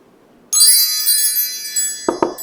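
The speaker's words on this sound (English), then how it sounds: "Let's call in spirit with some wind chime time." Wind chimes ring out suddenly after a moment of quiet, a bright shimmering cluster of metallic tones that sustains and decays, with a couple of soft knocks near the end.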